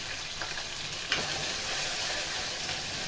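Tomato sauce hits hot oil in a pan and sizzles loudly and steadily, a close, continuous frying hiss with a brief sharper crackle near the start, no voices.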